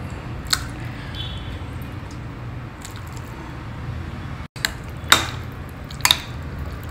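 Mashed rice gets mixed by hand with hot rasam, giving a few soft, wet squishes and squelches over a quiet room background.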